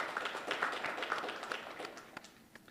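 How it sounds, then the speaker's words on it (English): A faint, steady round of applause from an audience at a university honor society initiation ceremony, dense clapping that gradually thins out toward the end. "let's give Dr. Tansey one more round of applause"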